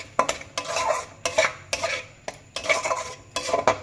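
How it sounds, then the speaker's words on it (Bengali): A spoon scrapes and clinks around a pan as a gravy with cashew paste, salt, coriander and cumin powder is stirred, in quick repeated bursts of close metallic stirring without speech. "এবার ভালোভাবে নাড়াচাড়া করে নেব।"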